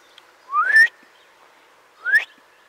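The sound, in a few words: loud whistle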